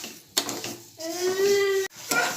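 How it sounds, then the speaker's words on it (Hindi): A spoon scrapes and clinks in a frying pan while sugar and ground ginger cook for aale pak, a few short scraping strokes with one sustained squeaky tone, fairly quiet, no talk. "अब हम इसे अच्छे से पकाएंगे और चम्मच ऐसे ही हिलाते रहेंगे।"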